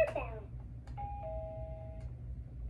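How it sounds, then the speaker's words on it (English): A short electronic doorbell-style chime from a toy learning laptop rings out, sustained tones following an initial burst, with a low steady hum underneath. "Doorbell."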